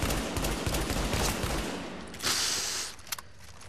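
A semi-automatic gun fires in The Division, a loud rapid run of gunshots with dense crackling blasts that tapers off, then a few last sharp shots, with no talking.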